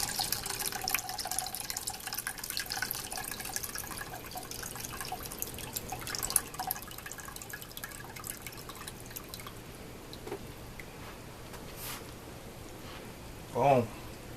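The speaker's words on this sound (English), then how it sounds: "I'm going to pour off the juices" Juices from a whole cooked chicken poured off into a container, a faint irregular trickle and dripping that thins out, ending with a brief louder splash near the close.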